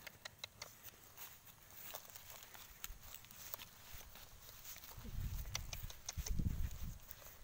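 A horse walks with light, irregular clip-clopping hoof taps, fairly close but soft, joined by heavier rustling and thumps partway through, amid faint background voices.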